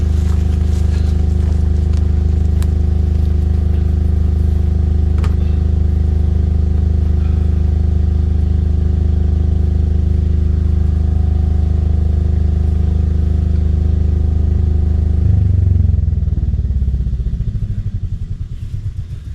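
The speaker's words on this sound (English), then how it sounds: "we don't need the generator now. Turn it off so we don't waste" A diesel generator runs steadily with a loud, constant low drone for about fifteen seconds, then its tone shifts and rumbles unevenly as it winds down and fades near the end.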